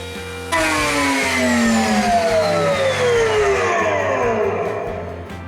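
A router suddenly whines to life cutting a groove in wood, holding a steady, high-pitched mechanical drone with a falling tone, running alone and close for several seconds.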